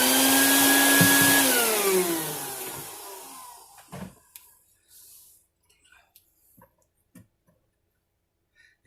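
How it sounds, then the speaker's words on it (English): A vacuum cleaner drawing out sanding dust from a guitar bridge area, loud whine that winds down over a few seconds, followed by quiet scattered ticks and small handling clicks. "vacuum it out."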